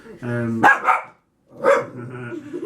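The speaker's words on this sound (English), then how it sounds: "The dog is barking at her own reflection." A pet dog barks at her own reflection indoors, two sharp close barks separated by a short pause, with a low vocal whine or growl between them.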